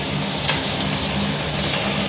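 Ginger garlic paste fries in hot oil for chicken biryani, giving a steady, close, dense sizzle that holds at an even level without pause.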